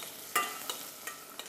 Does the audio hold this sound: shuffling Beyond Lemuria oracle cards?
no